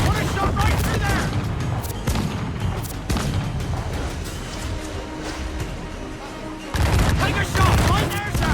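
Ship cannon fire in Assassin's Creed IV Black Flag: heavy booming shots and crackling volleys over constant naval battle noise, with shouting voices, louder again near the end.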